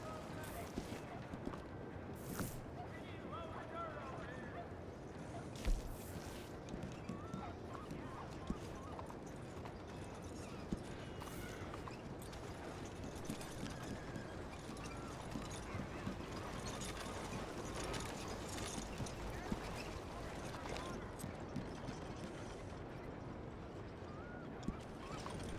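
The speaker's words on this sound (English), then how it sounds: "Easy, girl. Come on now, giddy up." Horse hooves clip-clop steadily while riding in the Red Dead Redemption 2 video game, with a snort or whinny and a voice talking over the continuous trotting.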